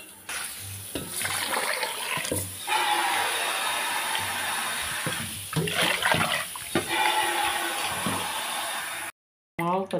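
Raw rice being washed in water, with continuous splashing and swishing of grains and water throughout, close and fairly loud, with no voices.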